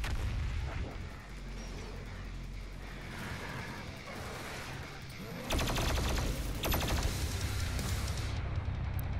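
Heavy gunfire from Doom Eternal, with loud sustained bursts of rapid shots and booming impacts over dense game noise, growing denser and louder in the second half.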